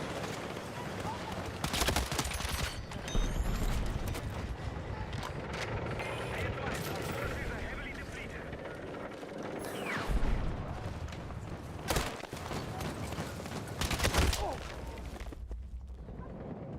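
Gunfire from a gun in the video game Battlefield 6 crackles in sharp bursts and single shots between stretches of spoken commentary from a player.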